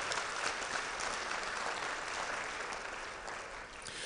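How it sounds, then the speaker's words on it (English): Sustained audience applause at an Alpha Phi Alpha fraternity regional public program, a thick, even wash of clapping from a crowded hall, steady and moderately distant before easing slightly near the end. "Y'all please give them another round of applause."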